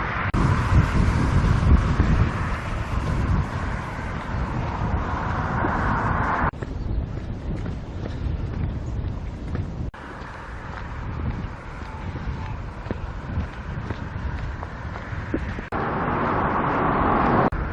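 Road traffic rumbles past beside a coastal walking path between Bamburgh and the Holy Island causeway, a steady broadband roar mixed with wind buffeting the microphone, swelling louder at the start and end as vehicles pass close by.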